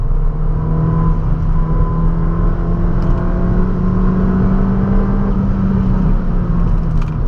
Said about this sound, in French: On entend un petit peu la décharge du turbo.